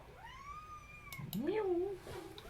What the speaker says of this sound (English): that cat likes to sleep